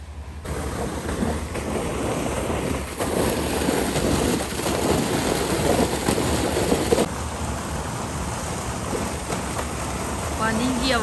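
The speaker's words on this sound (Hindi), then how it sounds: "पानी की आवाज़ इस तरह आ रही है जैसे वो" Water rushing into a pool at a farmhouse, a constant broadband roar like ocean surf that stays loud and even throughout, with no talking.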